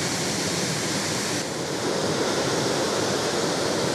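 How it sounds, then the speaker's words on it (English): Constant rushing roar of Tahquamenon Falls in Paradise, Michigan, heard from within the spray mist, a dense and loud water noise with no voices. "Feel the water coming right off the falls, spraying."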